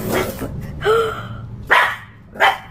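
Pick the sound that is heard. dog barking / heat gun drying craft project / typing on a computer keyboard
dog barking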